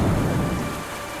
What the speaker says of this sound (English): a strike of lightning goes off, hitting the ground just feet from you.